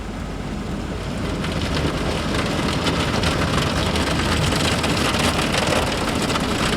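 Car wash brushes scrubbing over a car, heard from inside the cabin at a WashTec SoftCare wash: a dense, steady wash of spraying and swishing that swells slightly and stays constant throughout, with no voices.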